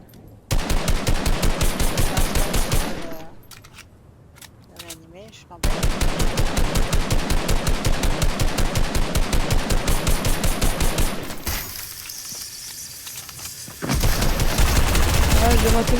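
Rapid automatic gunfire from a video game, loud sustained bursts of rattling shots separated by short pauses, with quiet speech in the gaps and a final burst closing the sequence.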